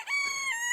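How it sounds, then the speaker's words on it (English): A pet cockerel gives a short, close crow, a bright harmonic call lasting under a second, heard alone. "the sound of KFC, one of my little chickens, or was one of my little cockerels there"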